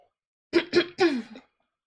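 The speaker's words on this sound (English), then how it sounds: "let me clear my throat" A person clears their throat in three quick, rough bursts followed by a softer trailing rasp, close and alone in a quiet room.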